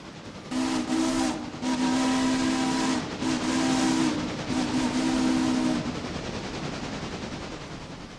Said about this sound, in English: Just sitting back and watching the trains go by.